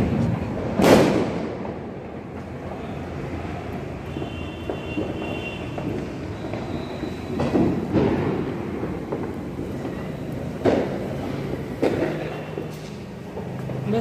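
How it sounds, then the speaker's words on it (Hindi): Diwali firecrackers bursting outside a home at night, several sharp distant bangs spread across the stretch with a low rumbling background and faint hiss between blasts. "बाहर ढेर सारे पटाखे चल रहे हैं।"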